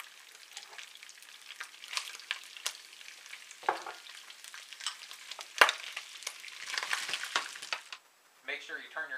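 Sausage, onions and celery fry together in a pan with a crackling sizzle and frequent stirring clicks, close by, and a voice speaks briefly near the end.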